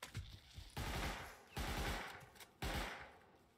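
Automatic gunfire in the survival video game Rust comes in three short bursts of rapid shots, each followed by a brief pause.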